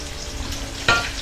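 Aubergines frying over low heat in a pan, a soft continuous sizzle with one brief louder scrape or stir near the end.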